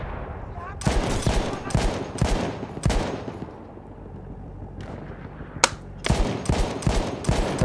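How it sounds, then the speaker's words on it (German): Bursts of rapid gunfire from Battlefield 1 crackle in loud clusters, separated by brief quieter gaps, with a lone sharp shot in between. "Der Schuss kam noch an mir vorbei, ne?"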